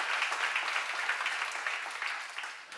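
A church congregation claps together for a few seconds, a fairly quiet, dense patter of many hands that fades slightly toward the end.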